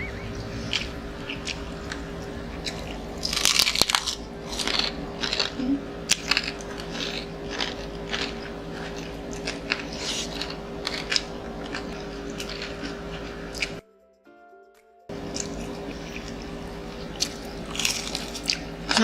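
Crispy fried pork belly, lechon kawali, is bitten and chewed up close in repeated loud crunches amid brief squishy chewing, with a short silent gap near the end.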